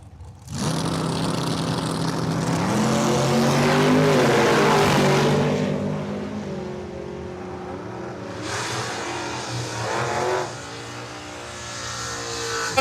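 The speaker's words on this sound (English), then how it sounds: "Bruce Hunter's in here today in his white S10." A white S10 truck and an 85 Dodge Daytona launch side by side at a drag strip, engines roaring loud and sustained, then fading as they run off before another surge of engine noise.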